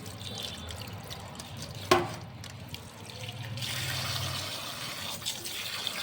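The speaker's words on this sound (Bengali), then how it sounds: "এই পাবদা মাছগুলো এবার একটু ধুয়ে নেব" Water splashes and trickles as pabda fish are rinsed, with a sharp knock near two seconds and a steadier run of water later; no one talks.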